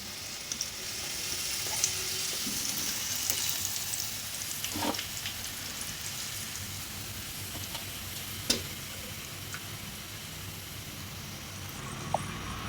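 Chicken pakoda frying in hot oil, a steady close sizzle with soft crackles and a few sharp pops, no talk over it.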